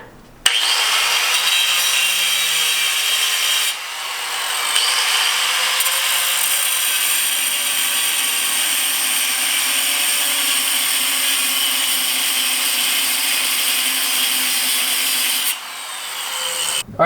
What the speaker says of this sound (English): we cut it and grind it down, it clears